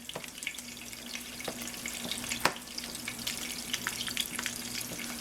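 Shrimp cooking in butter in a pan give off a faint, steady sizzle and crackle, broken by a few light clinks and one sharper tap, with no talking.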